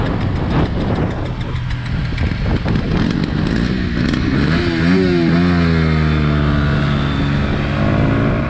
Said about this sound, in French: quand une moto fait ce genre de bruit, c'est rarement bon signe